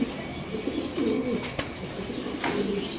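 Pigeons coo softly at a pigeon farm, a few low, rounded burbling calls rising and falling close by against a quiet background.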